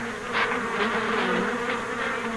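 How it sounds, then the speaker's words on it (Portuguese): An active swarm of honeybees being fed sugar water hums with a steady, dense buzz close to the microphone, individual wingbeats swelling and fading in brief pulses throughout. "Para remover o enxame de abelhas ativas, como este"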